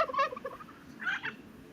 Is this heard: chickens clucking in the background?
yes